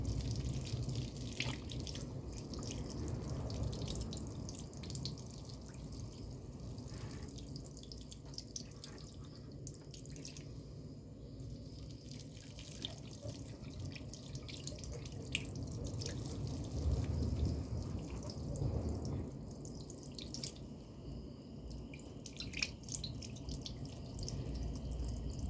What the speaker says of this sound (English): Rinse the first hand and arms from fingertips to the elbows thoroughly.